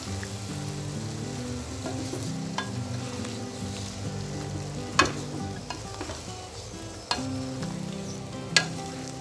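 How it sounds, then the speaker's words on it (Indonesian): A spatula stirs spicy eggplant with sweet soy sauce and water in a frying pan. A steady sizzle and bubbling run throughout, broken by occasional scraping clacks against the pan. "Kita aduk-aduk lagi biar tercampur rata"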